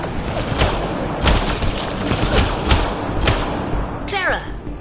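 Gunfire in Mass Effect: Andromeda, a rapid run of sharp shots and thumping blasts in a loud firefight, with voices shouting over the combat.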